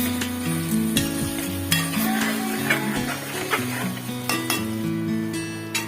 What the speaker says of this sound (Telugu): చామదుంపలు కూడా వేసుకొని కలుపుకోవాలి.